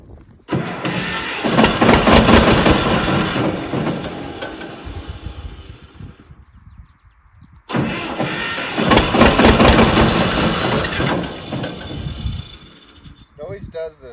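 A garden tiller's small engine starts up, roars loudly for several seconds, cuts out briefly to near silence, then fires up again and runs steadily before dying off near the end.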